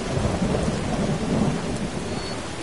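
Steady rain hisses with a low rolling rumble of thunder underneath, a dense, continuous storm ambience in the video game Skyrim.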